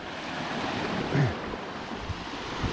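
Ocean surf on a quiet beach at Phu Quoc, a steady wash of waves with one swell rising and falling, alone with no talk.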